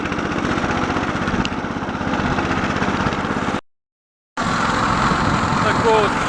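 A tractor engine pulls a cultivator slowly in first gear through a field being prepared for cucumber planting, a steady close rumble that cuts out briefly to silence before resuming.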